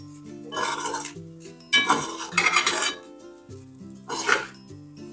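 Cooked jeera rice with salt being mixed in a dish for a tadka curd rice recipe, close clattering bursts of spoon against the vessel in three clusters, with quiet gaps between, no talk.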